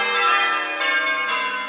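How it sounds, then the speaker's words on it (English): A church bell rings continuously as the ringers practise for Sunday service, heard at night from a car driving past, with sustained overlapping metallic tones close and loud and fresh strikes renewing the ring. "they're practicing the bell ringing for Sunday"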